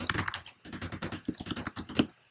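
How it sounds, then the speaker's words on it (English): Computer keyboard typing, rapid and uneven keystrokes clattering up close in a steady burst with one short pause, heard alone without talk. "we can just start, typing random text in"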